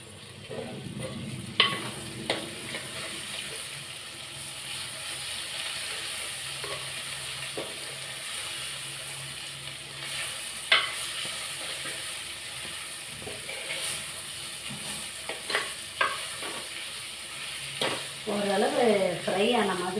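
Bitter gourd stirred and frying in oil for a kulambu, with a steady sizzle and repeated scraping clicks of a spoon against the pan, the stirring growing busier toward the end.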